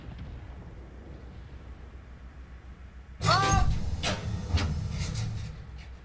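A tank gun fires once in a tank video game, a sudden loud blast with a ringing metallic tail and rumbling echo, following a quiet engine hum, with someone talking at points.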